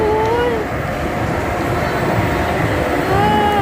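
A small ride-on train rolls past inside a busy shopping mall, its steady rumble mixed with crowd noise and a melodic tonal tune, with people talking nearby.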